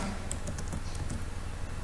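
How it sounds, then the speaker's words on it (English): Keys clatter on a computer keyboard as a microcontroller lab program is typed, producing a steady run of light, close clicks and taps with no voices over them. "Now I will be typing the program, this one."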